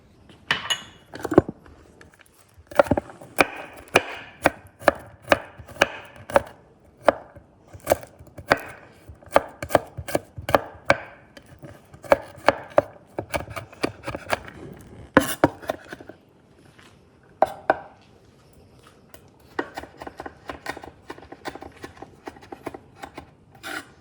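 Garlic cloves are chopped with a knife on a cutting board, a long run of crisp, close, uneven knocks with rapid scraping bursts and brief pauses, no voices.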